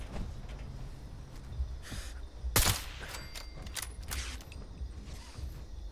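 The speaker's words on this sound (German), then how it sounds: "Das ist mir zu viel Schuss." Gunfire in Fallout 76, heard as scattered sharp shots with one louder close blast near the middle and several quicker cracks after it, over a low rumbling game background, with no voices.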